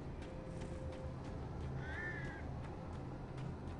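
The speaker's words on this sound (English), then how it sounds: "where'd those birds go?" Crows caw in the video game Alan Wake, a few faint, distant calls over a quiet, low ambient hum with no talking.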